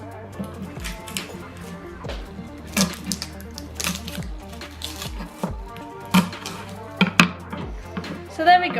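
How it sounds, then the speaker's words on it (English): A knife chops a large garlic clove in a home kitchen, giving a run of close, crisp taps in an uneven rhythm, with no voices. "I'll chop a garlic clove."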